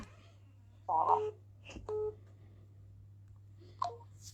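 A few short, quiet beeps of touch-tone telephone dialing from a mobile phone, in two brief bursts and then a last single tone, over a steady low electrical hum.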